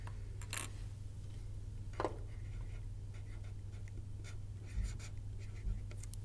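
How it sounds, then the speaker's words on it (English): A marker writes on a board in a quiet room, giving faint scratchy strokes and squeaks scattered over several seconds above a low steady hum, with a few light taps. "Let's see if I can write that in a little bit darker of a marker"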